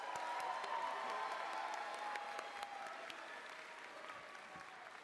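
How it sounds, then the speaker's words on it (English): An audience at a live event cheering and applauding: dense, sustained clapping with scattered whoops, fairly distant and slowly fading over a few seconds. "Can we give her a big cheer?"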